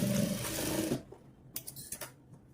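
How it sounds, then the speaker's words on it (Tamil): A sewing machine runs steadily while stitching along the edge of a blouse, a dense continuous whir for about a second, then stops, leaving a few light clicks and handling taps. "இந்த ஓரத்துலேயே ஒரு தையல் ஓட்டிக்கலாம்."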